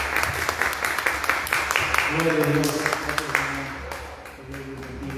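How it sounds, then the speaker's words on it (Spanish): A church congregation claps for the Lord after a prayer, brisk applause under a preacher's spoken praise, with sustained tones like music or singing joining partway. "Dale un fuerte aplauso al Señor."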